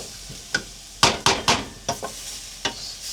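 Chopped onion fries in a pan while a spoon stirs it, giving sharp scraping clacks at an uneven pace over a soft, steady sizzle.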